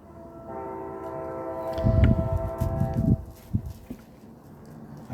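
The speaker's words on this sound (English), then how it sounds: "I hear the train a blowing." Train horn blowing from nearby tracks at a railroad switching station below a house, a sustained harmonic blast holding for about two seconds then trailing off, with rumbling rail noise rising underneath toward the end.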